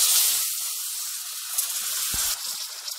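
Hot milk poured into besan roasting in a pan for halwa gives a loud, steady hiss and sizzle close by, easing slightly as it continues, with no talking.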